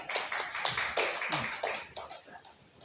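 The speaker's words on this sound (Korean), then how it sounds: "우리 박수 한번 해드립시다" A church seminar audience claps for a pastor's wife, a short burst of uneven hand claps that starts strong and gradually tapers off over a few seconds.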